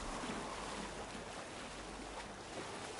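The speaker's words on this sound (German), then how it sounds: "Stechen in See und dann geht das los hier." Boat sailing on a river in Assassin's Creed Valhalla, a faint steady wash of water and wind noise with no distinct events, soft and continuous throughout.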